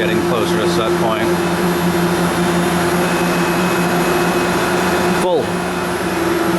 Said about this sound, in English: You can hear the RPMs lowering now as the load is getting less or as we're getting closer to set point.